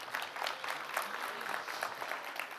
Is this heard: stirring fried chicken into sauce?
no